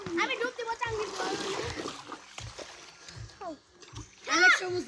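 A child splashes and dives in a village pond, with repeated water slaps and sloshing mixed with children's chatter and shouting, loud and close.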